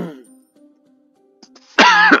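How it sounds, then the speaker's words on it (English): A single harsh cough bursts out close to the microphone after a stretch of near silence, loud and brief. "I'm trying to keep the cough out of the mic."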